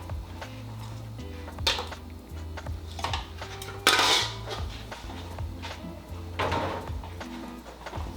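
Chicken wings go back into an air fryer basket with clattering metal knocks and a sharp clang, then a few lighter rattles and taps, fairly close.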